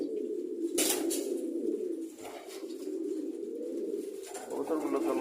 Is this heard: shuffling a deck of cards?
no